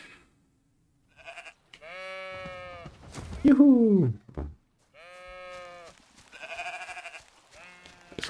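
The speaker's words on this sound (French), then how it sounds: "Ils sont motivés, les moutons, le coin." Sheep bleating in the video game Baldo, several drawn-out wavering bleats in a row with short pauses between them. A voice calls out briefly.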